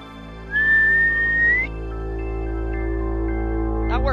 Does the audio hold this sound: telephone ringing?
no